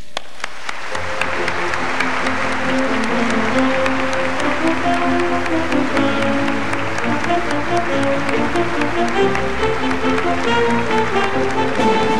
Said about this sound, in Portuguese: os nossos aplausos para todos os jornalistas representados pelos aqui presentes